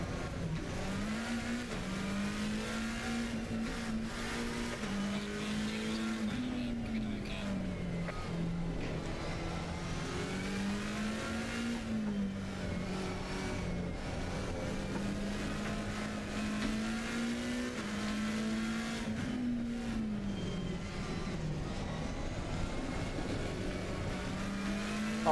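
Race car engine from Assetto Corsa Competizione drones continuously, rising and falling in pitch as it revs through gears, loud and steady throughout with a faint tire squeal.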